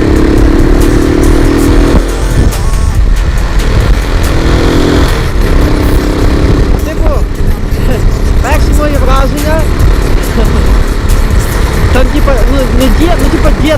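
Motorcycle ridden during a first category A riding lesson on a training ground, its engine running steadily and rising and falling in pitch through the whole stretch while someone talks over it.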